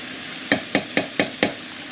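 Black bean sauce being stirred into a hot, sizzling wok for Sichuan chicken: five evenly spaced scraping strokes of the spatula sound over a constant close sizzle.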